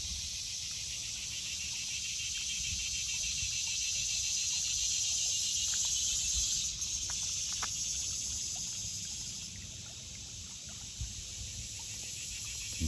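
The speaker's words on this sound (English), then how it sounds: "You guys hear the cicadas?" Cicadas drone outdoors in a steady, high, shimmering buzz that fills the whole stretch, swelling slightly and then easing, with faint scattered ticks and no talking.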